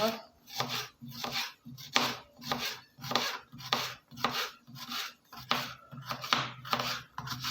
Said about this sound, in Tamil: குட்டியாக நறுக்கிக்கலாம்